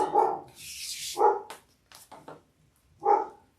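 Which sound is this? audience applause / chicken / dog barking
dog barking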